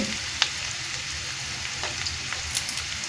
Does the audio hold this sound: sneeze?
no